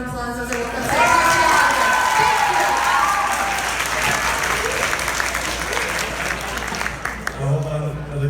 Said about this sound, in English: Can we give myself a round of applause as I walk up?